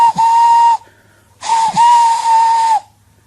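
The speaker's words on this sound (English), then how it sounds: "Everyone knew that whistle" A steam locomotive whistle sounds loud and close in two long blasts: the first is shorter, and the second is held with a brief dip, each carrying a hissing edge before cutting off.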